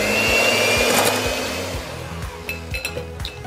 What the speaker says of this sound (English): With a hand mixer, I like to beat my 1 cup of cream for about 2 minutes until soft peaks form.